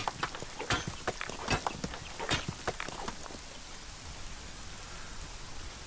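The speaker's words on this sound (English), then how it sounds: "We're gonna catch a cold in this weather. It's just cold and rainy." Rain falls in the Conan Exiles video game, with scattered crisp drops and impacts over a steady wash that eases into a softer, even patter.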